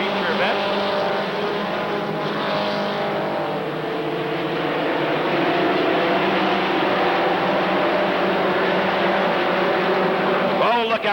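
Race cars roar steadily around Rockford Speedway during a 20-lap feature, a loud continuous engine drone with shifting pitch as the pack passes, an announcer talking over it throughout.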